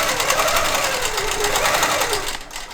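Longarm quilting machine stitching binding onto a quilt held on its frame, a rapid, even mechanical needle rattle running close and loud for a few seconds before slowing and stopping.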